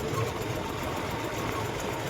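A John Deere tractor engine runs on a farm with a continuous rough rumble and a faint rattling knock, close and steady throughout.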